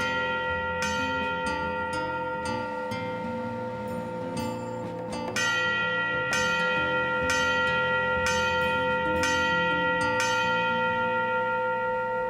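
A 1960 DC Fire Department station bell strikes out Gamewell alarm box 666, ringing loud, metallic strokes in spaced groups over a steady droning background, with each stroke decaying slowly.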